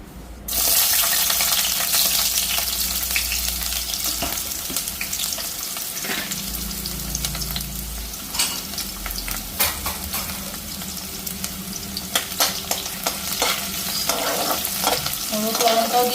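Onion frying in hot oil in a home kitchen: a loud, steady sizzle that runs the whole time, with scattered clicks and scrapes from stirring and no one talking.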